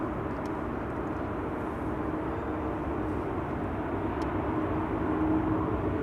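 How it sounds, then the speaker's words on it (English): An Airbus A340 taxiing at Amsterdam Schiphol Airport toward runway 24, heard as a steady, broad engine rumble and roar that holds evenly throughout, swelling slightly near the end, with no voices. "there's the A340 taxiing to runway 24"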